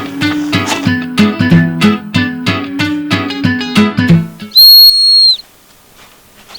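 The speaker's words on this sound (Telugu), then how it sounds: "విజిల్ వినబడతలేదురా?" A whistle is blown for one short, shrill blast that follows a run of rhythmic tonal music and then stops abruptly.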